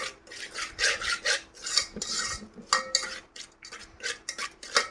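Flour and jaggery stirred in ghee in a home kitchen, giving steady rasping, scraping strokes of a utensil against the pan, close and fairly loud in an uneven rhythm, with no talk.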